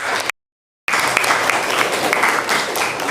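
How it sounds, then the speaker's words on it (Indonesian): A school audience at a performance exam breaks into steady, crowded applause for a classmate after a brief dropout, the clapping continuing evenly to the end. "Kasih tepuk tangan untuk teman kita."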